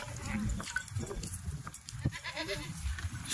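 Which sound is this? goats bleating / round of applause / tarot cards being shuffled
goats bleating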